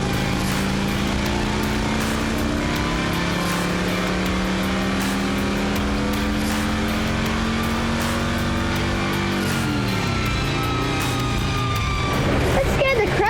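Loud 90hp Harley-Davidson engine on a drift trike running on a dyno, droning steadily with rising pitch as the rear wheels spin up, then shifting tone near the end, with voices talking over it.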